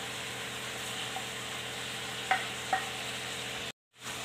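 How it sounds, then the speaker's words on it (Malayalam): Chicken curry frying in a pan with ground coconut paste stirred in, a steady low sizzle with a couple of soft scraping strokes, then a brief cut to silence. "ഇതെല്ലാം നല്ലതുപോലെ ഒന്ന് മിക്സ് ചെയ്ത് കൊടുക്കുക"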